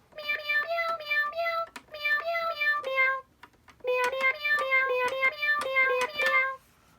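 A Meowsic cat keyboard plays bright, synthesized meow tones in quick melodic phrases, clear and close, with a short gap before another run of notes.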